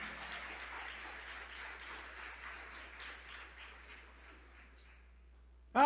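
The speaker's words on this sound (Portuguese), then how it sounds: "Você pode aplaudir o Senhor?" A church congregation applauds during a sermon, a soft, distant patter of clapping that gradually fades out before a sudden loud sound at the very end.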